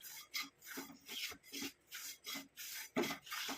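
A spoon scrapes and stirs amla (Indian gooseberry) powder dry-frying in a pan over a low flame, a close rhythmic rasping that repeats in even strokes about every half second.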